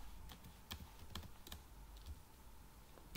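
Rapid clicking keystrokes on a computer keyboard while entering code, irregular bursts of sharp taps close by and fairly quiet, with no talking.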